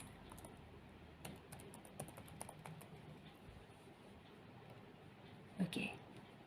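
Keyboard typing on a computer while entering a chart title in Microsoft Excel, soft irregular keystrokes at close range, with one sharper burst near the end.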